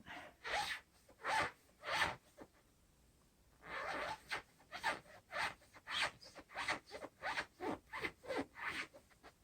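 A blade cuts foam for a custom mattress in a 2019 Casita Spirit Deluxe camper, making repeated close rasping strokes in an uneven rhythm with a brief pause early on.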